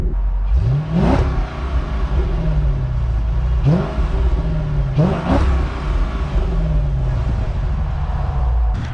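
A Chrysler 300 SRT8 engine revs hard three times through its exhaust, each rev climbing sharply then dropping back to a deep, rumbling idle, loud and close.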